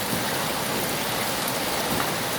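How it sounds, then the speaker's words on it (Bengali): Heavy rain pours down in a dense, continuous wash of hiss and patter on surfaces, loud and close with no break. "গাইস দেখছো কত বৃষ্টি, দেখছো দেখছো অনেক বৃষ্টি"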